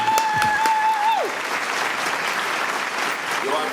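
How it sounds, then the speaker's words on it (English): An audience bursts into a round of applause for a performer named Mr. Benji at a live show, steady dense clapping filling the room, with a brief whistle-like tone near the start. "I want you to give an AM round of applause"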